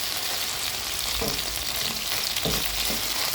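Chicken wings cooking in a pan, half fried and half baked, a continuous close sizzle of hot fat with a couple of soft scraping knocks as the pieces are shifted, no voices.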